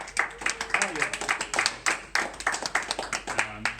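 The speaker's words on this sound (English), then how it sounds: "give yourself a round of applause for being out here tonight" Scattered audience clapping at an evening presentation event with wine, a small crowd's uneven claps mixed with cheers and a voice or two underneath.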